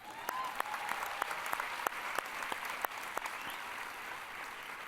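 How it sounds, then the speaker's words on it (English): A commencement audience at Otterbein University applauds its graduating Systems Engineering majors, steady mid-distance clapping from a large crowd with a few sharper individual claps standing out, lasting throughout. "Go ahead, applaud for them."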